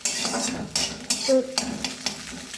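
Egg frying in oil with onion in a pan gives a close, steady sizzle, broken by sharp clinks and scrapes of a utensil stirring against the cookware.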